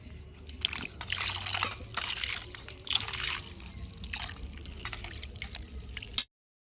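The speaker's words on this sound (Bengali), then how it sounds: "কেন এর মধ্যে ঠান্ডা জল দেওয়া হচ্ছে" Cold water poured into a roasted mango drink (aam pora sharbat), splashing and trickling close by in uneven surges before stopping abruptly, with no talk.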